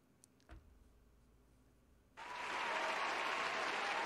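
A stream cheer alert on a Skyrim modding livestream bursts in after a faint click, a sustained burst of crowd applause and cheering with a faint rising tone, loud and steady.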